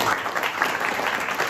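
Dense, steady applause from an audience at a religious lecture, many hands clapping together at an even, moderate loudness, with no speech heard.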